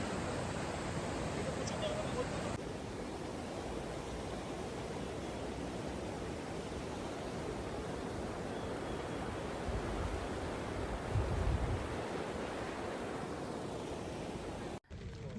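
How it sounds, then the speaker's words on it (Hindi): Fast-flowing river in Betaab Valley, Kashmir, a steady broadband rush of water that stays loud and unbroken throughout, with a brief bump near the end. "ये वो रिवर है और इसका व्यू इतना सुंदर था और पानी इतना ज़्यादा था और फ्लो भी बहुत तेज़ था"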